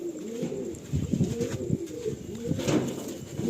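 A male pigeon held in the hand coos close and clear, a run of throaty rolling coos that pulse in short repeated bursts.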